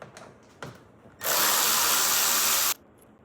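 An impact or power driver spins out an 8mm bolt on a Porsche 928 S during an oil change, a loud steady whir lasting about one and a half seconds after a couple of soft clicks.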